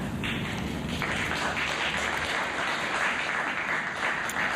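Sustained audience applause at a board of education meeting, a steady wash of clapping from a crowd that holds at an even level throughout.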